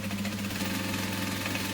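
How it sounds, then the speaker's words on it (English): A sewing machine runs steadily, stitching straight down the side of a seam on a mini NCW, a continuous close motor hum with a rapid even needle rhythm and no pauses. "So I can just stitch straight down the side"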